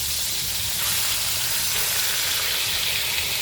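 Pork steaks fry in a hot pan with a loud, steady, close sizzle that hisses continuously with no pauses and no voices.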